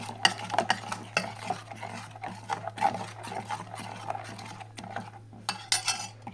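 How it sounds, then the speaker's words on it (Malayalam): Papad dough is mixed by hand in a bowl, giving soft, irregular squelching and slapping sounds with occasional light clinks over a steady low hum. "ഇനി നന്നായിട്ടൊന്ന് മിക്സ് ചെയ്യാം"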